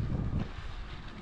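Light wind buffets the microphone with a heavy low roar during a bicycle ride, strongest at the start and then easing into a steady rushing noise.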